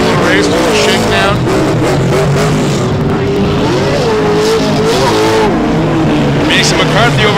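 Pro2 short course off-road trucks race hard at Glen Helen Raceway. Engines wind up and ease off in loud, wavering sweeps that stay close and continuous, with occasional faster passes late on and commentary running underneath.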